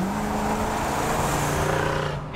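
A 1971 Plymouth GTX with a 440 V8 accelerates hard, a loud, close, sustained roar that swells and then drops off sharply at the end.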